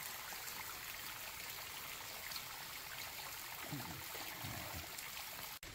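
Creek water flows past a cave in an Indiana river valley, giving a soft, continuous broadband rush with faint trickling detail, fairly quiet and steady throughout, and no voices.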